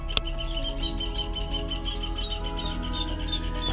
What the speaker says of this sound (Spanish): Pajaritos.